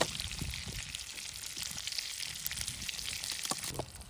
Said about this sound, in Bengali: তো আমাদের ডিম ভাজা এদিকে কমপ্লিট